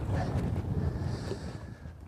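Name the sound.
wind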